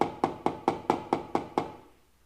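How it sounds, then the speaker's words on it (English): A hammer taps out a dent in the body panel of a BMW 535i F10 during a DIY paintless dent repair, giving seven sharp, evenly spaced metallic knocks close to the mic, each ringing briefly before fading. "I never thought I'd be taking a hammer to my car"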